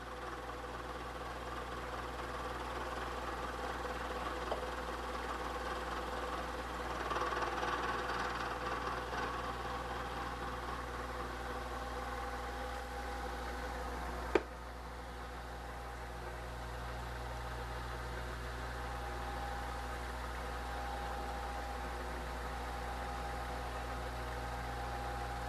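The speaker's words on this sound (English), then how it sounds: "we want nice smooth uniform advancement of the table and the fly cutter across the part" A milling machine fly cutter traveling smoothly across a part under a hand-cranked table feed, a steady low machine hum with a faint higher cutting whine, one sharp click midway, then an unchanged drone, with no talking.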